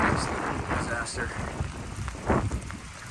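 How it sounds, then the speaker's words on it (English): Rain falls steadily under gusty wind rumbling on the microphone, with a person speaking over it outdoors beside a dirt airstrip in stormy weather. "It's raining right now."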